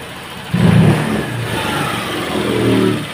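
A Honda Vario 125 scooter with a rough, unstable idle gets a quick throttle blip: the idle rises sharply into a short rev, then settles back to a steady mid-pitched run, loud and close.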